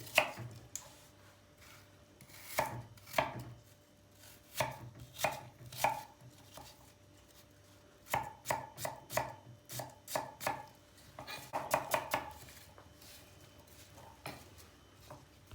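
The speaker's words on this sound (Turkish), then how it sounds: "Bunları önce güzel bir küp küp doğruyoruz." Crisp knife chops on a cutting board as apples are cut into cubes come in quick bursts of several strikes, separated by short pauses, close and clear with no talking.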